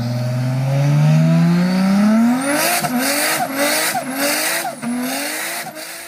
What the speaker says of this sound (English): There's wheel spin still, but it's a lot quicker this time round.